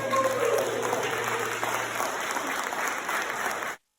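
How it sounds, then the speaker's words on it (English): Audience clapping together for about four seconds, a dense, steady burst of applause in a room that cuts off abruptly. "Let's do a clap for that."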